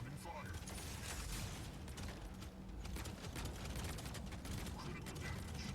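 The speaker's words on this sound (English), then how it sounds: "Oh, he spotted me. Incoming fire." Incoming weapons fire in the Mech Arena video game, a dense continuous barrage of mechanical clatter and rapid gunfire-like bursts that fills the whole stretch at steady loudness, with no speech over it.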